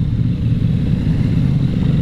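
A 2023 CFMOTO 800 NK motorcycle engine held in third gear at about 2500 rpm gives a steady, loud, close low rumble with no talking.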